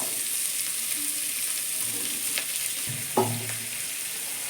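Bay leaf, capsicum and tomato fry in a pan with a continuous bright sizzle. A few soft clinks and stirring knocks come through near the end, and there is no talk.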